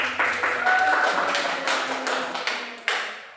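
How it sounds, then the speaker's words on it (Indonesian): A small group clapping after a science lesson in a classroom, a short burst of scattered hand claps up close that fades out, with a final sharp clap near the end. "Oke, tepuk tangan"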